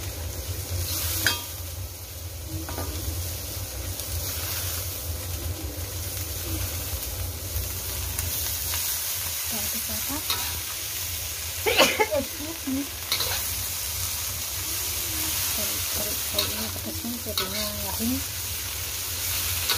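Bean sprouts and chilies stir-fry in a pan with a continuous sizzling hiss, periodic scraping and clattering of a spatula, and faint voices murmuring in the background.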